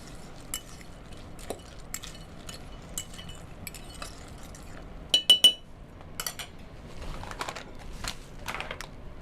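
Stuffing being mixed in a bowl with a utensil, giving light scattered clicks and scrapes at a steady pace, with a brief cluster of sharper knocks midway and a busier stretch of stirring near the end.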